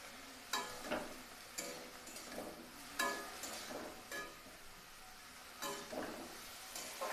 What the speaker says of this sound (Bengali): চিচিঙ্গা ভাজি দিয়ে দিচ্ছি নুন আর হলুদ গুঁড়ো